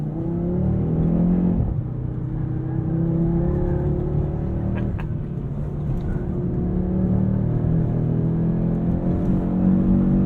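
A 2022 Audi RS3 with Quattro all-wheel drive accelerates hard on a road drive, its engine a steady, loud, close drone that rises with revs and never drops away.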